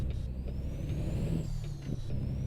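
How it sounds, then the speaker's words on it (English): A truck engine in American Truck Simulator, a Peterbilt 389, drones low and steady throughout, with a rising whine and subtle shifts in pitch as gears change. "You just try to shift based off the engine noise."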